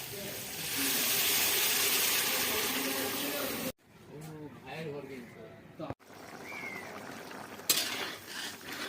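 Water poured into a hot frying pan of potatoes fried with sliced turmeric and salt gives a loud, steady steaming hiss for several seconds, then someone talks over quieter kitchen noise.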